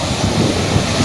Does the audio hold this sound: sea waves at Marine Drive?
yes